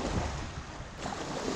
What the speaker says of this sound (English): So we've come down to the seafront again where Marianne is going to do her swim with